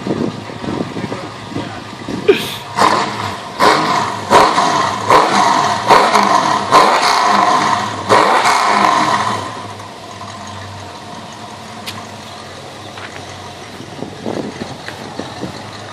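A Ford Mustang with a performance exhaust revs in a series of loud, close blips that rise and fall for several seconds, then settles to a low idle.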